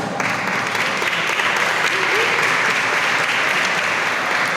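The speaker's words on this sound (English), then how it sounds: "So let's give them a round of applause." Sustained applause from an audience, a dense steady wash of clapping that fills the whole stretch without letting up.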